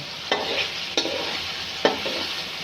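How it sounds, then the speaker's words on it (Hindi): Tomatoes and potatoes frying in a pan over a low flame for an Afghani omelette, a steady soft sizzle broken by three sharp stirring scrapes, close and moderately loud with no voices. "इसको हल्की फ्लेम पे हमने फ्राई करना है ताकि टमाटर जो से हैं वो हमारे नरम हो जाएं"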